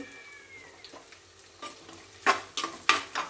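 Two tomatoes sauté in a pan for brinjal kara kuzhambu, opening with a quiet low sizzle before several sharp bursts of stirring and spatula scrapes near the end, close by, with no talk.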